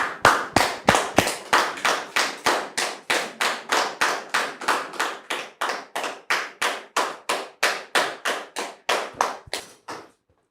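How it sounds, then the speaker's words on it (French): Rhythmic unison clapping from a studio audience welcoming a pastor on a talk show, about thirty evenly spaced, crisp claps at a brisk steady beat, fairly close and clear, ending abruptly. "Sous vos applaudissements, s'il vous plaît."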